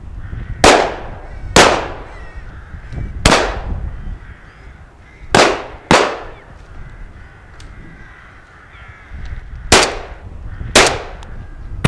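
A semi-automatic shotgun fires at rooks: about eight sharp, loud shots come in irregular pairs and singles over several seconds, each with a short echo, with faint ambient noise and no talking.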